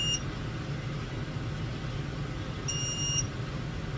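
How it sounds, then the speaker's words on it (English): Two electronic warning beeps from a John Deere 6125 tractor baling, one brief and one longer, sound over a steady engine rumble. "Why is it beeping?"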